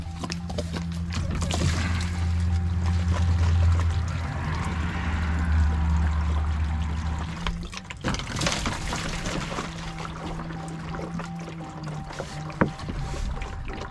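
Fluid, likely antifreeze, drains out of a bucket truck in a heavy, steady gush that lasts several seconds, then drops to a thinner trickle with a few knocks and clatters close by.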